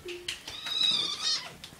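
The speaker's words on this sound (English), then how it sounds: "Meowy cat." A cat meows several times in short, close, fairly loud calls with a rising and falling tone.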